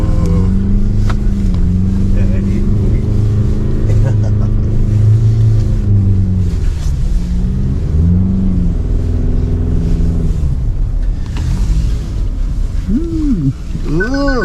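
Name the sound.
Ford Endeavour driving down desert sand dunes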